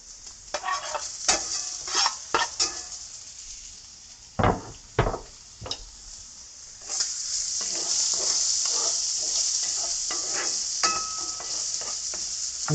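Food sizzles and fries in a saucepan over medium heat, a steady hiss that builds and holds, broken early on by sharp knocks and scrapes of stirring.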